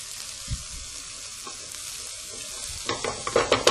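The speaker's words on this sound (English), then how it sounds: "Just give that a mix." Potato and leek with a bay leaf, salt and pepper stirred in a sizzling pan: a soft steady fry hiss, then a quick run of scraping utensil strokes toward the end, close by and without speech.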